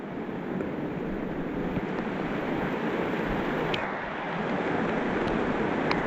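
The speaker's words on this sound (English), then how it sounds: "It's downpouring right now." Heavy downpour in a Costa Rican rainforest near a river, a dense, steady roar of rain that fills the whole clip evenly, with a few faint splashy ticks above the constant hiss.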